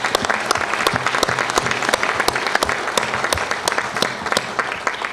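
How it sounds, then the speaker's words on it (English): A crowd at a public comment session gives a round of applause, dense rapid clapping with a few sharp individual claps standing out, loud and continuous with no voices. "So let's give them a round of applause,"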